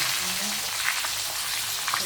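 A pork chop sizzles in a hot pan, a steady bright hiss of frying fat that carries on without a break and with no talk over it.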